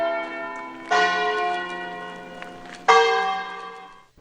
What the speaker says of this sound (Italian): È il suono delle campane a ritmare il lento uscire dalla chiesa di Francesca e Pietro.